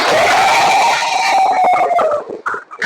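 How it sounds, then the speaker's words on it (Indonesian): A classroom of students in an Indonesian coding lesson cheers and shouts together, loud and close, with a sustained crowd roar that fades into scattered voices near the end. "Kasih tepuk tangan untuk siapa?"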